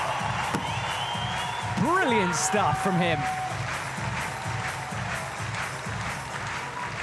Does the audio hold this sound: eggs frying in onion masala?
no